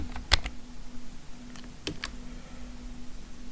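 Names are typed on a computer keyboard as a handful of sparse, quiet clicks scattered over a few seconds, with a steady low hum in the room behind them.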